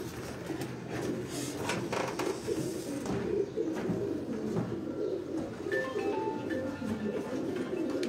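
A group of about eleven pigeons released for flight, with soft cooing and fluttering calls over a busy, muffled outdoor background, plus occasional faint clatter and a few thin whistle-like tones late on.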